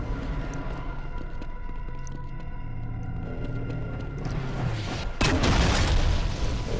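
Grenade blasts from the video game Brutal Doom: a deep rumbling boom bursts in near the end over a continuous dense game background of low drones and mechanical noise, with no voices.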